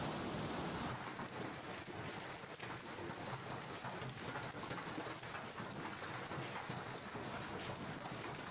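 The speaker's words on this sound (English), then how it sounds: "Rome has been struck by an unprecedented and violent hailstorm" Heavy rain falling steadily during a violent hailstorm in Rome, a dense, continuous hiss and patter of drops on surfaces at moderate level, with no voices.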